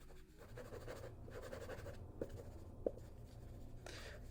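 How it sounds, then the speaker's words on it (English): Pen writes on paper with soft, continuous scratching strokes and a couple of small taps, close and quiet, with no talking. "let me just write that down quick"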